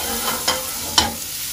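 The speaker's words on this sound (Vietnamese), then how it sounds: "Đầu tiên là mình sẽ cho hành tây vào để xào thơm." Onion stirred in hot cooking oil with leftover garlic in a wok, a steady faint sizzle broken by two scraping stir strokes, close and without voices.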